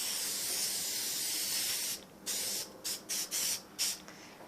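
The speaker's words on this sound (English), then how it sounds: "So I'll spray one more on camera for you guys." Aerosol sealant spray hissing onto costume jewelry: a long steady hiss, then a run of short, sharp bursts with brief gaps, close and fairly loud, no talking.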